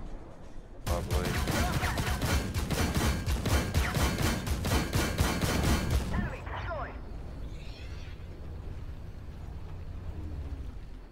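BMD-2M autocannon firing in a video game, delivering a rapid, steady burst of loud rhythmic shots for about five seconds that then stops abruptly, leaving a lower rumbling background with faint distant sounds.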